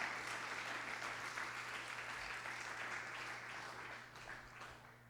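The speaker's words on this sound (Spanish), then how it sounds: "Jesús, si es el aplauso, dele para el Señor, dele fuerte, hermanos." Sustained applause from a church congregation, steady clapping that fades slightly toward the end, heard at a moderate distance.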